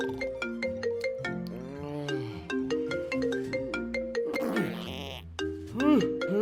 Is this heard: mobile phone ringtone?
yes